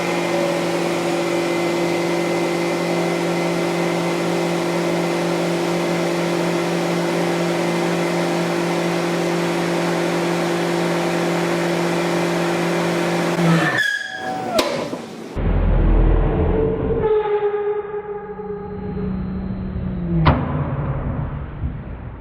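A CNC milling machine in a workshop runs with a steady tonal whine, then crashes because of a wrong depth setting: an abrupt jolt, a short grinding stutter and sharp knocks, followed by uneven spindle tones winding down. No one speaks.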